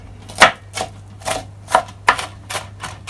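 A knife slices through half a white onion on a cutting board, about eight crisp, evenly spaced chops with a low steady hum underneath, close and clear.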